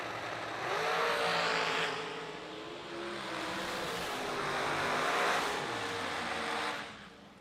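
A drag race car at full throttle crossing the finish line, a sustained loud engine roar that swells and fades as it passes, heard from a distance across the track.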